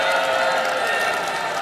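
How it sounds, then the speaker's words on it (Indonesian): A debate audience at the 2024 East Java gubernatorial debate applauds candidate pair number 1, a dense, steady wash of clapping and crowd noise that fills the hall at fairly close range with no talking over it. "beri tepuk tangan untuk pasangan calon nomor urut 1"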